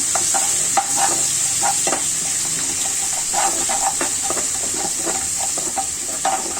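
Mustard paste being stirred into spices frying in a pan for a rui fish curry with bottle gourd peel, a steady loud sizzle with repeated scraping stir strokes throughout, no talking.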